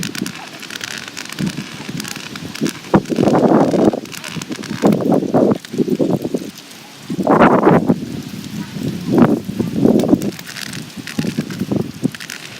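Strong wind gusts outdoors buffet the microphone in uneven bursts, rising and falling across the clip with rustling noise close by.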